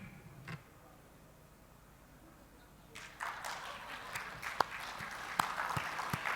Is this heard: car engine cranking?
no